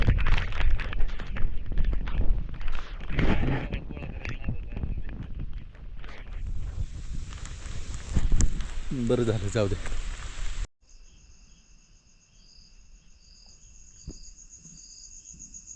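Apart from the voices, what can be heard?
heavy rain falling at night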